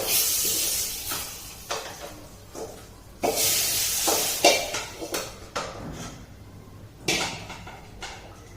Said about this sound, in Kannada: ಒಗ್ಗರಣೆ ಕೊಟ್ಟು ಇವಾಗ ಸಾಂಬಾರಿಗೆ ಹಾಕ್ತಾ ಇದ್ದೀನಿ.